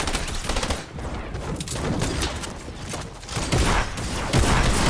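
Gunfire rattles in a Fortnite match, dense rapid bursts of shots running nearly continuously and loudly, with brief dips between volleys.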